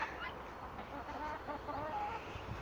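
Chickens clucking in their run, a soft steady murmur of several hens close by with rising, wavering calls, fairly quiet and without talk.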